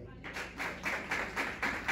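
A church congregation claps in a steady rhythm during an Advent service, about five sharp claps coming every third of a second after a quiet start, with a room echo around them.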